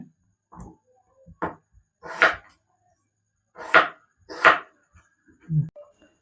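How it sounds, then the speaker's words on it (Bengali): A knife chops pointed gourd and potatoes into small cubes on a board, producing sparse, crisp individual knocks spread irregularly over several seconds with quiet gaps between them. "পটলগুলো এরকম ছোট ছোট কাটিং করে নেব, আলুর সাইজের মতন"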